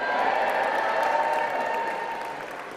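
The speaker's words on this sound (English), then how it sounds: "I want you all to wave your mortarboards in the air and give a hearty cheer" A large crowd of graduates at a university graduation ceremony claps and cheers continuously while waving their mortarboards, a dense, steady roar of applause that fades slightly toward the end.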